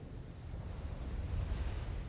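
Sea waves washing against a small rowing boat, a soft continuous rush and slosh with gentle swells in intensity, faint and steady with no voices.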